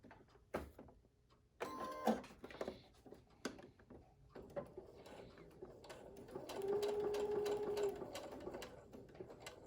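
A sewing machine stitches a cloth mask in short bursts and one longer steady run, its needle chattering close by between quiet handling noises and pauses.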